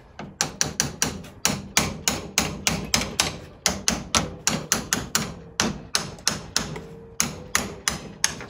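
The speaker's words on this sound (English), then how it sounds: "Hammer time." Steady series of sharp hammer blows on the coil-over suspension spring of a 1936 Chevy coupe, about three strikes per second, close and loud, with no talking.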